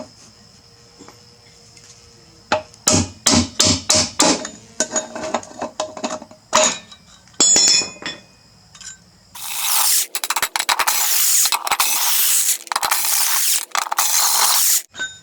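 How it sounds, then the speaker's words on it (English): Metal tools scrape and pry an old, worn seal out of a bearing: bursts of sharp clicking and ratcheting taps first, then a long, loud grinding scrape, close to the microphone with no talk. "Now I got to get out that seal, whatever's left of that seal."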